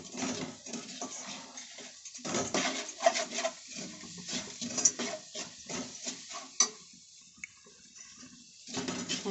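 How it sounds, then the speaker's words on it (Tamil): Roasted grated coconut and sugar scraped and stirred in a pan for sweet coconut burfi, a steady run of close, rhythmic spoon-on-metal scrapes and soft clatters with brief pauses. "ஆட் பண்ணி நல்லா கிண்டிக்கிட்டே இருக்கணும்."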